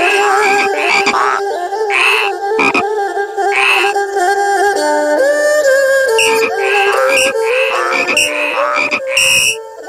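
A chorus of frogs croaks continuously and loudly, overlapping calls of varied pitch, in the frog betting game of the video game Shenmue 3.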